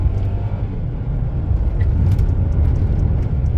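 A 2016 Mercedes-Benz GLC300 4MATIC in Sport Plus mode accelerates uphill into a bend, heard from inside as a steady, deep engine and road rumble with faint higher ticks.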